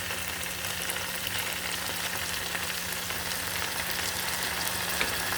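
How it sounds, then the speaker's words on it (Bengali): Ginger and garlic dropped into hot oil with tilapia and eggplant curry, a dense, continuous sizzle and hiss filling the whole stretch at close range, loud and even with no voices. "আমি অল্প করে একটু আদা রসুন দিয়ে দিচ্ছি"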